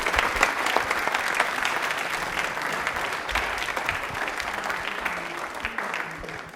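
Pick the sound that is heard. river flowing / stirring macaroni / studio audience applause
studio audience applause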